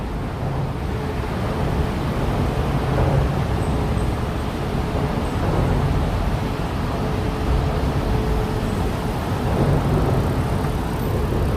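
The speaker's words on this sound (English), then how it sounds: "We hear the traffic above us." Traffic on FDR Drive overhead along Manhattan's East Side, a steady low rumble of passing vehicles heard from below, continuous and broadband with no voices.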